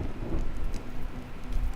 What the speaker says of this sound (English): When will this rain ever stop?